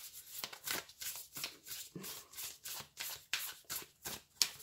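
Oracle cards are shuffled by hand close up in a steady rhythm of quick papery riffles and soft slaps, about ten repeated strokes with no talking.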